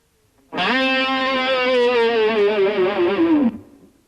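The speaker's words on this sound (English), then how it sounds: "but bending the bar down, which gives it that one effect that sounds like this" Electric guitar note held for about three seconds while the whammy bar wiggles it, giving a wavering vibrato that sags in pitch at the end. Played close and distorted, with no talking.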